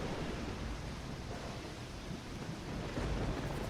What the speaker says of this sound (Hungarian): Még mindig vihar van.